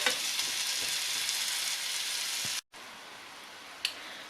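Chanterelle mushrooms fry in a pan with a steady, bright sizzle, cut by a brief moment of silence, then resuming more softly with a small clink near the end.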